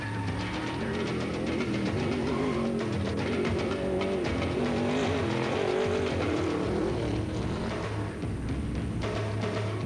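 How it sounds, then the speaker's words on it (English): A trophy truck racing through the wash area of the 2006 SCORE Baja 1000 in Mexico gives a loud, continuous engine roar that rises and falls as it passes close, with crowd and road noise mixed in. "A few hairy turns in the city streets, and the 97 trophy truck enters what is known as the wash area."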